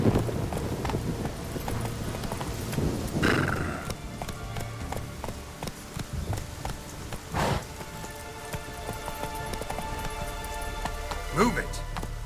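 Roach the horse gallops in The Witcher 3, with rapid clip-clopping hooves running throughout, rain falling in the background and a few voice calls over the top.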